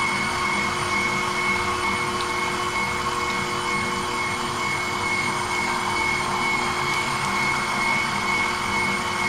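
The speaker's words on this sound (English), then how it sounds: "So once I get done grinding all of this meat" An electric meat grinder works through cold meat for homemade German-style bratwurst, its motor giving off a steady, unbroken drone that holds at an even level throughout.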